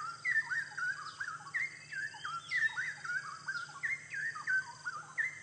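Rich, liquid straw-headed bulbul song in repeated short phrases, bubbling warbles spaced evenly, fairly faint with a low hum underneath.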